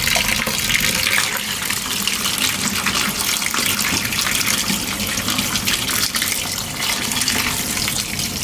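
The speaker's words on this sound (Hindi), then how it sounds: "इसको अब मैं छिलनी में डाल के तो अच्छी तरह ऊपर से टैप खोल के वॉश करने लगी हूँ" Tap water pours steadily onto goat brain in a kitchen strainer during rinsing, a continuous close hiss and splash of running water with no break.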